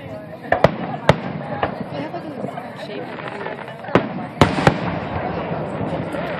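Fourth of July fireworks at U of D burst with sharp cracks and booms over a constant crowd murmur, a few sudden pops spaced unevenly, while people talk nearby.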